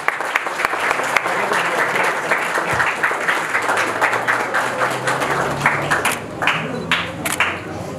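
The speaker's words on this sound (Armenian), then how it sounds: "համեցեք բարձր ծափողություններով" Wedding guests burst into loud, sustained applause at a civil marriage ceremony, dense close clapping that holds steady for several seconds with a few voices underneath.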